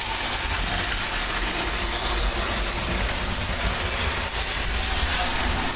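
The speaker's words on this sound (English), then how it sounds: "Runs very well now. It's like a new locomotive." A steadily running, smoking Glomski 671 model locomotive gives a loud, continuous mechanical rattle and whir with a constant ratcheting texture and no pauses, no talking.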